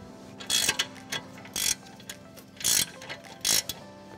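A spanner ratchets on a car's steering tie rod end nut while the centre stud is held with an Allen key, giving a run of about five short, sharp metallic clicking bursts, close and fairly quiet, with no talk.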